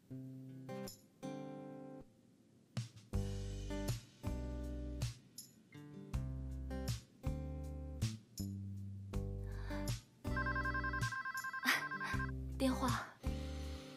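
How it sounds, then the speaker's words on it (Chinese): A telephone rings in a drama scene, a loud melodic ringtone that repeats in regular bursts, with talking mixed in. "电话。"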